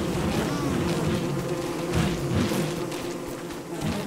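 Bees buzz continuously in the video game Don't Starve Together, a dense droning hum from a swarm near a bee and frog area, steady and fairly loud with no voices.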